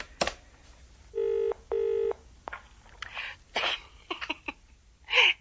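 Telephone keypad tones sound as a number is dialed: two clear, evenly spaced beeps, alone and fairly close, surrounded by small handling noises, a sniff and brief breathy sounds.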